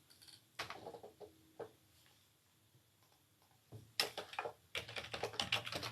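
Keys clatter on a computer keyboard in scattered taps, then a pause, then faster, denser bursts of close, soft clicking with no voices.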